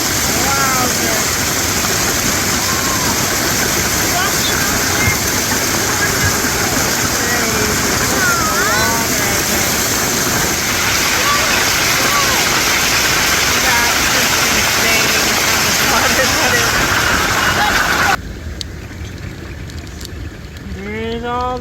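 Heavy rain and hail pour down in Williams, Arizona, a loud dense roar of water sustained for about eighteen seconds before abruptly dropping to a lighter, quieter downpour.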